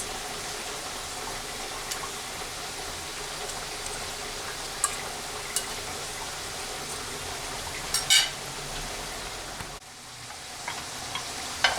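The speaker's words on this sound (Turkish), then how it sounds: "Patatesimi kızarttım." Oil sizzles and crackles steadily in a pan of frying potatoes, a constant bright hiss with occasional pops, close and fairly loud throughout.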